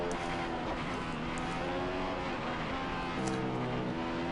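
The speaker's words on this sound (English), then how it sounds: "you may have heard slowing the car down, speeding the car up, slowing the car down, speeding the car up" Race car engine in a racing video game at Silverstone, dense and steady throughout, its pitch easing down and climbing back as the car brakes into corners and accelerates out, with no talk over it.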